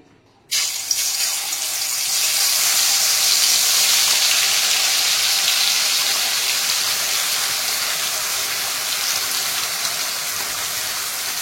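Masala gravy hits hot ghee in a pan for matar paneer and sizzles loudly, a broad steady hiss that starts abruptly and holds for about eleven seconds without talk.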